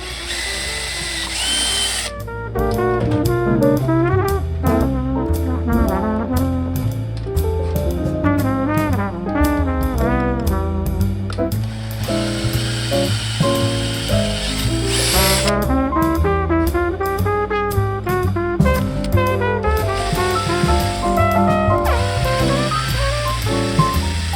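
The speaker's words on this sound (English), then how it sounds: "the holes aren't big enough in the speaker, so I will just drill them out real quick" A power drill bores out the mounting holes of a car speaker to fit M5 bolts, whining steadily with shifting pitch for about twenty seconds, loud and close, with no talking.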